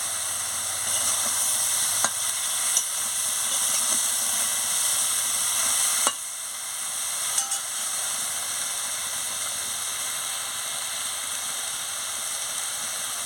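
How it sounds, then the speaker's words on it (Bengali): Eggplant and vegetables stir-fry in a pan with chili powder, producing a constant close hiss and sizzle. A few sharp clicks of a utensil against the pan break through the steady sound, and no one speaks. "এবারে ভালো করে আনাজটাকে কষিয়ে নেবো।"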